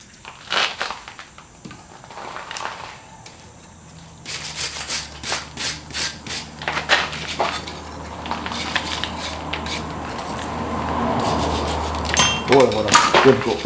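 A freshly forged steel leaf is scrubbed with a brush in rapid, rasping strokes that come in uneven bursts, growing denser and louder toward the end, with a few metallic clinks and a voice speaking briefly.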